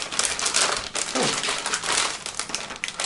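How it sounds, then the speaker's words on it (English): Crinkling cellophane packaging rustles close up, a dense continuous crackle with sharper crunches as the wrapper is handled, no voices. "please excuse the rustling of cellophane"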